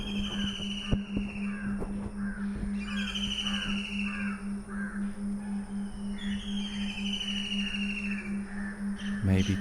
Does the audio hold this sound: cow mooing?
no